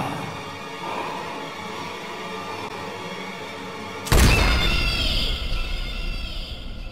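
A loud, abrupt pistol shot from BioShock cuts through a steady low game ambience, followed by a ringing, sustained high tone and rumbling tail that slowly decays.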